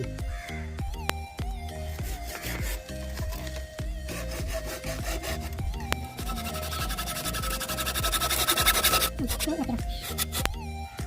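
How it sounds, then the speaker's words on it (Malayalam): A hacksaw blade cuts through 1.5 inch PVC pipe in quick, rhythmic rasping back-and-forth strokes close by, steady and speeding up toward the end, with voice and tonal background sound underneath. "എക്സോ ബ്ലേഡ് ഉപയോഗിച്ച് നമുക്കിത് കട്ട് ചെയ്തെടുക്കാം."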